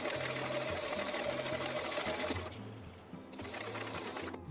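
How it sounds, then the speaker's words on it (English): A sewing machine fitted with an edge stitching foot stitches a boning channel on an 1890s Victorian corset, a steady close mechanical whir that eases off briefly near the end. "I found it easiest to use an edge stitching foot to get super close to the bar with, because you will need to sew him in as tight as possible"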